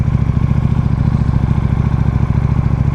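A motorcycle engine running steadily while riding, a loud close throbbing drone with rapid regular pulses and no talk.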